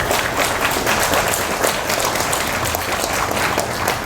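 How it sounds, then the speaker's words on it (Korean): A church congregation at a Sabbath worship service breaks into sustained applause, a dense, loud, even roar of many hands clapping together that holds steady for several seconds. "힘내시라고 박수 한번 보내주십시오."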